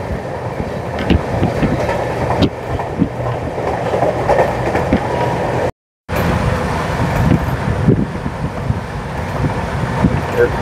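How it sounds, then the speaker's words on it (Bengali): A passenger train races through the night at about 107 km/h with a loud, continuous rumble and rhythmic wheel clatter. The roar cuts out briefly partway through, then resumes. "ট্রেনের স্পিড 107 কিলোমিটার পার আওয়ার।"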